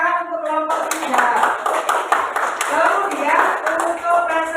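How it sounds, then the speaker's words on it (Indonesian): Children in a classroom clap for a presenting group, a brisk rhythmic patter of hands under voices, with a short chime near the start. "Berikan tepuk tangan untuk kelompok 3."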